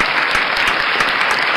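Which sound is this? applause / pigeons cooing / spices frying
applause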